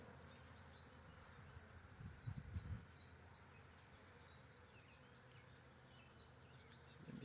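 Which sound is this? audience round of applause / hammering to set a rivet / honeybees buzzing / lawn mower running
honeybees buzzing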